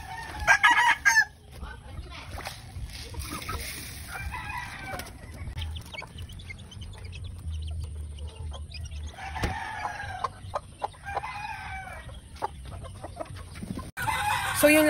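Backyard chickens with a rooster crowing several times amid steady clucking, the calls rising loudly at the start and again near the end over a constant low rumble.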